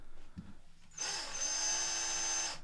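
A Ryobi cordless drill with a hole saw spins up after a brief click and keeps running at a steady high whine, close and fairly loud.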